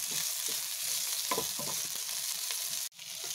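Potatoes fry on high heat in a pan, a close, dense sizzle broken by scraping stirs in bursts, then a sudden brief gap before the hiss resumes.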